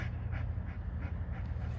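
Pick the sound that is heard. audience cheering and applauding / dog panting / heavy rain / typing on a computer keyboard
dog panting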